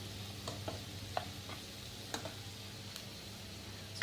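Vegetarian dish ingredients are stirred and mixed in a pan, giving soft scraping and clicking strokes every half second or so over a faint, steady sizzle.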